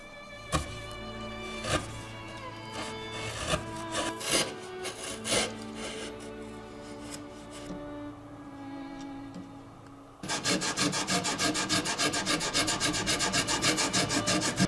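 A hand file rasps across the wood of a Stradivarius-model violin being carved, with scattered knocks and scrapes at first, then steady, loud rasping strokes in the final few seconds.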